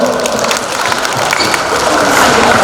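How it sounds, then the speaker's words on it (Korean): A crowd applauds at the closing ceremony of a dried persimmon festival in Hamyang, a dense, steady wash of clapping, loud and sustained. "박수 한번 해주십시오"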